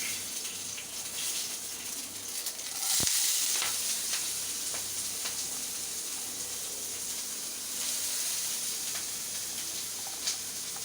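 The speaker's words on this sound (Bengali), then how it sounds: "এবারে ব্রাউন হওয়া পর্যন্ত এটাকে ভালোভাবে ভেজে নেব" Sliced onions and green chillies fry in hot oil in a pan for an egg curry, a steady loud sizzle and crackle with occasional stirring scrapes, continuous throughout, with no talking.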